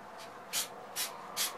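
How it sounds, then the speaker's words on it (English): Short hissing bursts from a spray can or gun painting a freehand-carved sign, three separate sprays spaced roughly half a second apart over a low steady background hum, fairly close and moderately loud. "Try not to spray my back wall and my signs back there if I can help it."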